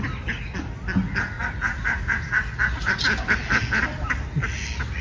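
Ducks quacking in a steady run of repeated calls, fairly close and loud, with a few honking notes and outdoor background noise.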